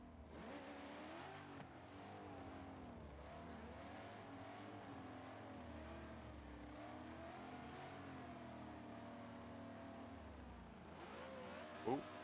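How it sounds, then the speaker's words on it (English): A race car pulls away at Sonoma Raceway during a team competition event, its engine droning steadily and continuously at a distance, with a brief sharp sound near the end. "Sounds like the gate car's going, and it's gone."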